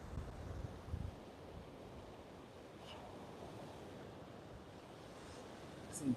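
Strong wind buffets the microphone over steady, low surf rolling in on a Sanibel Island beach, a constant broadband rumble with a few louder gusts at the start and end.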